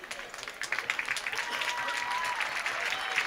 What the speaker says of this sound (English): You can hear the applause from the home crowd here